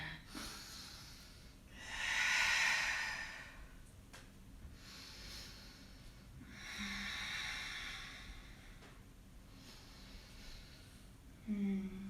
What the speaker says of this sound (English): Take another 3 rounds of breath here.